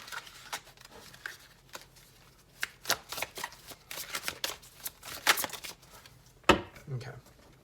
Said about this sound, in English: let's go for like one more card, one or two more cards